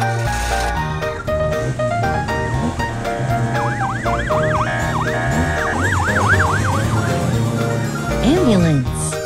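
A toy ambulance's siren wails in repeated rising and falling sweeps over bright, busy background music, fairly loud, with a brief fast chirp near the end.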